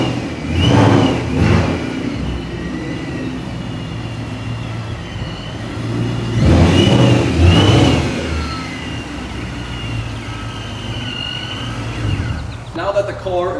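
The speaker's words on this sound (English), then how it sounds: "Now that the car is pulled out of the garage" A car engine revs in bursts as the vehicle pulls out of a garage, loud near surges around the start and middle over a steady running drone, with a brief clatter at the end.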